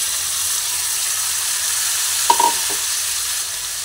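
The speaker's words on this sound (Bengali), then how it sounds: "মাংসটা তেলের মধ্যে দিয়ে দিলাম।" Marinated chicken pieces dropped into hot oil in a pan for chicken polau, giving a steady low sizzle with a brief louder hiss and clatter as the meat goes in, no talking.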